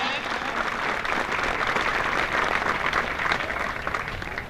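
Audience clapping at a special forces weapon drill, a dense, steady burst of applause that holds evenly throughout.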